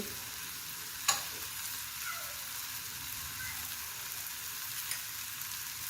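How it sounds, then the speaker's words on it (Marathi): Ginger and garlic are sautéed into an onion-tomato masala for matar paneer, a soft, steady sizzle with a couple of sharp knocks of a spoon against the pan, quiet and close, no talk. "हे आपण छान परतून घ्यायचं याच्यात।"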